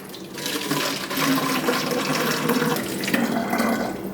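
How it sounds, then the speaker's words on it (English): Lukewarm water is poured into a container for mixing film developer, a continuous close splashing and gurgling stream that holds steady for several seconds. "So let's go ahead and start off with 500 mil of water."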